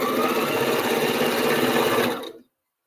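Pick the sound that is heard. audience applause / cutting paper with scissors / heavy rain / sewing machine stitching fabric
sewing machine stitching fabric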